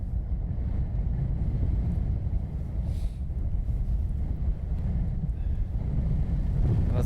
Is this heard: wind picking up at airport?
yes